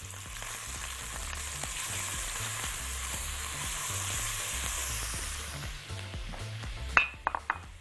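Onion sizzles steadily in a hot pan for chicken fatteh spiced with turmeric and curry, a continuous frying hiss, ending with a few sharp clinks of utensils against the pan.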